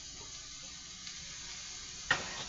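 Turkey sausage with cabbage sizzles softly in a pan, a faint steady frying hiss with one brief louder clatter near the end.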